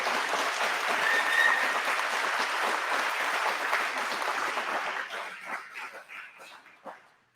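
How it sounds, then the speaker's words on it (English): A crowd at a Cabernet Franc wine tasting presentation in Paso Robles gives a dense, steady round of applause that thins into scattered claps before stopping. "Can we have a round of applause for this fabulous presentation?"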